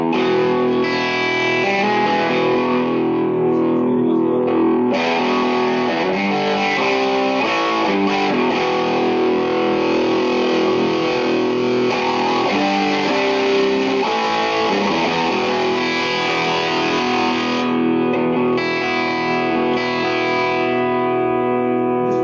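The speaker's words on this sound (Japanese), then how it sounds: "それからこのディストーションなんですが、ハンバッカーにしてちょっとやってみましょうかね。" Electric guitar on a humbucker pickup played through a distortion pedal into a crunch-set amp, producing thick, saturated chords and riffs for over twenty seconds with brief pauses between phrases, loud and alone.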